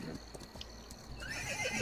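A horse in the Roblox Wild West game gives a loud, clear whinny, with hoof clip-clops and other game sounds around it.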